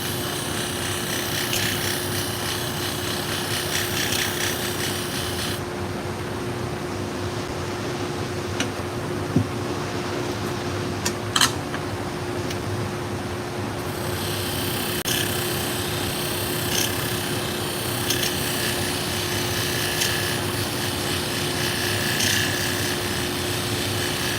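Salon shears being sharpened to take the bevel off the blade, a steady close rasping grind that runs almost the whole time with a few brief clicks and no talking.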